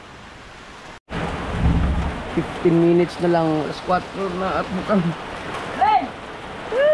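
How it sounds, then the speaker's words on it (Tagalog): Heavy rain with thunder, a broad steady roar that swells after a brief dropout, with a low rumble early on, running loud under people talking throughout. "ang lakas ng ulan"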